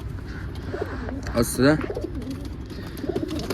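Caged birds at home coo in a short burst midway through, close and fairly clear over steady room noise, while someone talks around them.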